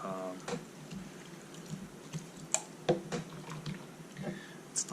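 Seed pulp and a little water slosh and splash inside a spinning, unsealed machine, faint wet squishes and scattered drips and splatters, with low talk in the background.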